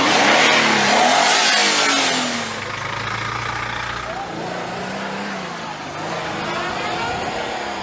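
A 1999 Subaru Impreza GT Turbo wagon accelerates and revs hard, the engine note rising and falling through gear changes, loud and close with wind rush, and someone talks over it.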